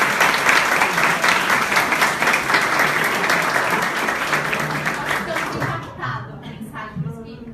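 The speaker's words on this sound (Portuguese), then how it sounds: "Normalmente a galera aplaude quando termina." A convention audience breaks into sustained loud applause at the end of a talk, the dense clapping thinning and fading out near the end as a few voices emerge.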